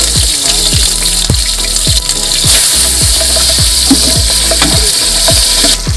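Green chilies and whole spices sizzle loudly in hot oil in a pan for country chicken biryani, a steady close frying hiss with repeated stirring scrapes, no voices.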